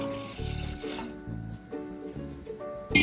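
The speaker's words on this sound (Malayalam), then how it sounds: "രണ്ട് ഗ്ലാസ് വെള്ളം ഒഴിച്ചു കൊടുക്കുകയാണ്" Water runs into a pan, two glasses poured in succession; a steady liquid splash lasts about three seconds, moderately loud and close, with no voice over it.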